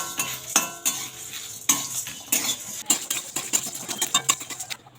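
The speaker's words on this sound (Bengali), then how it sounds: "এই সব মশলাগুলো আমি এর মধ্যে দিয়ে দেবো দিয়ে এবার এগুলোকে ভেজে নেব" Metal utensils scrape and clatter against a pan as spices are stirred for homemade chyawanprash, with a soft sizzle of ghee underneath; steady, close, irregular strokes without talk.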